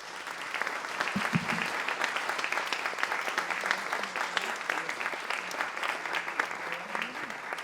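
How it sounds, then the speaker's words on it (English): An audience claps continuously, a dense, even wash of applause that holds for several seconds. "Let's give them a round of applause and the standing ovation that they deserve."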